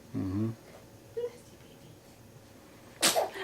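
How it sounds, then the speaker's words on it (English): A baby gives a single short, sharp sneeze near the end, close and fairly loud, after an adult speaks softly in a quiet room. "Did she sneeze?"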